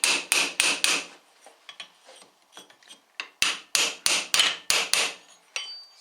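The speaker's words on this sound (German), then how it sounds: "Die Kappe könnt ihr erstmal mit dem Meißel abtreiben." Hammer strikes on a chisel drive a cap off a compressed strut from a late Porsche 944, heard as close, sharp metallic blows in two bursts of rapid hits separated by a quieter pause with light scraping.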